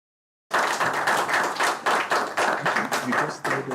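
After a brief silence, a small audience at a higher-education accreditation presentation starts clapping for a guest speaker, with distinct, fairly close claps in a loose, uneven rhythm.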